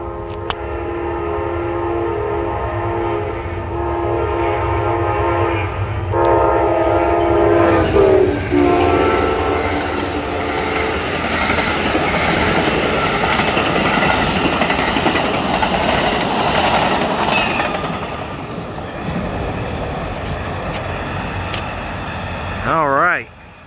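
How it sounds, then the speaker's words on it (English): Amtrak P092, the northbound Carolinian, passes close and loud, its horn blaring in long, layered blasts early on, then a sustained rumble and clatter of the cars rolling by, fading near the end. "Amtrak P092 northbound Carolinian running a little bit behind schedule today."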